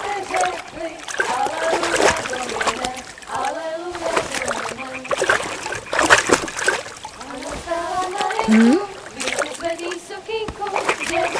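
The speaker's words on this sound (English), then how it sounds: "Throw a stone in the water near her to lure her away." A thrown stone splashes into water in the medieval game Kingdom Come: Deliverance II, a short splatter heard amid spoken dialogue and other ambient game sounds.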